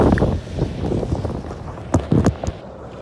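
Strong seaside wind buffets the microphone in a continuous low rumble, with a few sharper gusts and knocks near the end and no speech.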